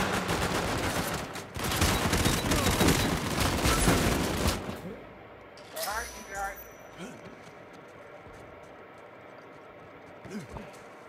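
Dense, sustained automatic gunfire in an Uncharted 4 multiplayer match, loud and continuous for several seconds, then breaking into scattered shots and thuds with players talking over the action.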